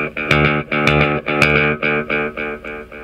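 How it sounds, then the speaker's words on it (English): A Binson Echorec tape echo with playback on head 2 and regeneration on head 4 repeats a distorted guitar-like tone in loud, evenly pulsing delays, with each repeat arriving slightly later. "it's a quick delay, but each delay after that is a little longer."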